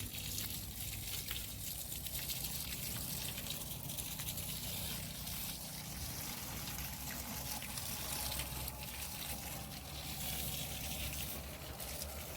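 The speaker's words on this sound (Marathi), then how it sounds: "ती एक ओळ मी एक ओळ असं जण आम्ही झाडांना पाणी देतोय" Water flows steadily from a hose or channel while grapevines in a vineyard are watered row by row, a continuous trickling wash heard alone throughout.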